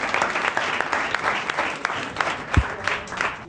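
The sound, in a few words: audience applause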